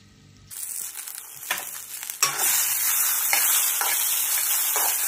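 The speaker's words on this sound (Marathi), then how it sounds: "थोडीशी भेंडी फ्राय करून घ्यायची." Okra hits a pan with a little oil and a loud sizzle erupts, then settles into steady close frying with a few brief stirring scrapes.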